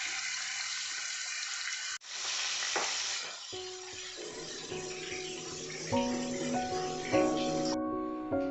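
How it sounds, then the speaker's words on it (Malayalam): A fresh batch of fish frying in hot oil for fish pickle, a loud continuous sizzle close up, with tonal music-like hum entering partway through and no talk. "ഇനി നമുക്ക് അടുത്ത ബാച്ചും കൂടി ഫിഷ് ഇട്ട് കൊടുക്കാം. അതും കൂടി നന്നായിട്ടൊന്ന് ഫ്രൈ ചെയ്തെടുക്കാം"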